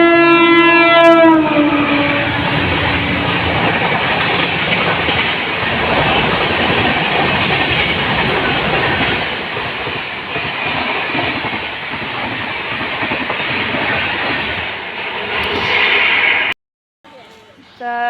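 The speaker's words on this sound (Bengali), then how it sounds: "আর এই যে একটা মেল ট্রেন ঢুকছে এখন।" A mail train entering a railway station: a horn at the start, then loud rumbling wheels and clattering carriages passing close for most of the clip before cutting off abruptly near the end.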